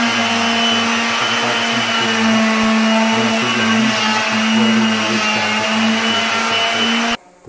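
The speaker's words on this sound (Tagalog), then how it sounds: "Liliyahin natin siya ng ating electric sander." Electric sander running continuously on wood parquet flooring, a loud steady motor whine with strong tonal hum, held without pause for about seven seconds before cutting off abruptly.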